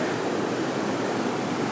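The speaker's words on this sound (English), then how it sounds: "I'm just walking across the bridge, which runs above the weir" Water pouring over the weir of the River Soar beneath a bridge, a steady broadband rush that holds constant and fairly loud throughout, with no voices.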